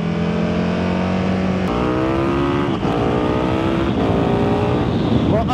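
A KTM motorcycle accelerates hard while overtaking, close and loud, its engine note climbing through several rising gear sweeps with brief shift breaks, under steady wind rush.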